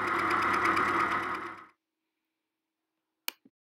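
A metal lathe cuts a worm gear, giving a steady mechanical whir that runs for about a second and a half and then stops, followed by silence and a brief faint click.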